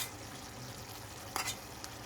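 Chicken barbecue fries in a pan with a faint, even sizzle throughout, broken by one brief scraping knock near the end.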